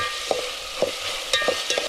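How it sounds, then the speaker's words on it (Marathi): Steady sizzling of a spice tempering in a pan on a wood-fired stove, with a few sharp clinks and scrapes of stirring, no voices. "फोडणी दिली आहे ना आपण ती मस्तपैकी आता तयार होते"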